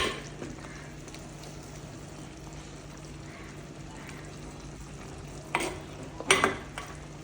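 A sardine and tapioca curry simmers in a pot with a low, steady bubbling hiss, and a few sharp utensil clinks and scrapes sound near the end.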